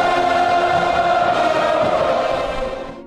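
Dense, steady roar of a large college football stadium crowd at a Florida State game, loud and continuous, fading slightly at the very end.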